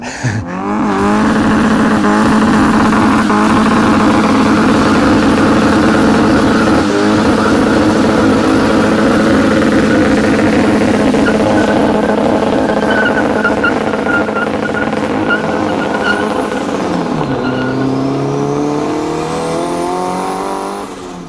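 A Datsun 1300 fitted with a 2-liter turbocharged SR20 engine runs loud and close, a sustained throaty roar whose pitch swells and shifts, dipping and climbing again near the end.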